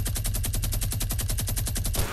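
A minigun firing in Fortnite, one unbroken burst of very fast, evenly spaced shots, loud and close, lasting the whole moment before cutting off.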